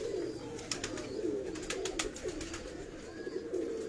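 Fancy pigeons kept by a breeder in Gujranwala coo in low, repeated rolling calls, with a few sharp clicks and knocks above them and no talk.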